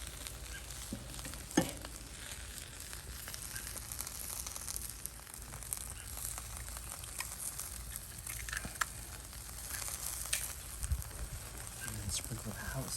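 Spam, onion and pineapple sizzle in a small egg pan over high heat, a steady close frying hiss with scattered pops and crackles throughout and occasional stirring scrapes.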